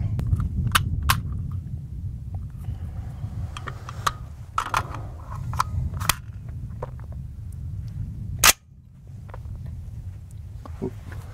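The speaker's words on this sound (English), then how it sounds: "shooting a Silencer Co. Harvester 300 suppressor makes this gun super quiet" A single sharp, muffled report from a Seekins Precision VKR20 rifle in .224 Valkyrie fitted with a Silencer Co. Harvester 300 suppressor cracks near the end. It sounds over a steady low outdoor rumble with scattered small clicks.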